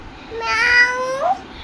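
A small child imitates a cat, drawing out one loud, close meow that rises and then bends upward at the end, heard on its own.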